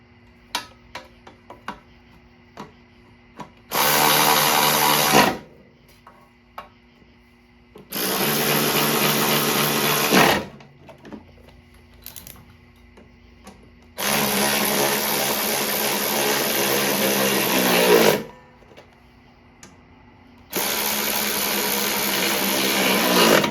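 A power tool runs down bolts on a problem lawn mower in four loud bursts of whirring, each a few seconds long, separated by quiet pauses, close up with no talking.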